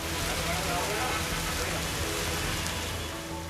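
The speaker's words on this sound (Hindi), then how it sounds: "इंदौर के ज्यादातर इलाकों में दिन भर बादल छाए रहे और झमाझम बारिश होती रही।" Heavy rain pours over Indore, India, in a dense, unbroken hiss that stays constant and fairly loud throughout.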